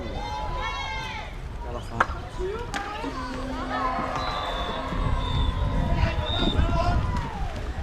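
At the 2024 ICF Canoe-Kayak Polo World Championships, a crowd cheers from a distance, swelling in the second half. A sharp whistle blast and scattered voices come over the venue noise.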